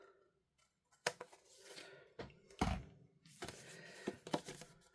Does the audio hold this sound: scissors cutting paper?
yes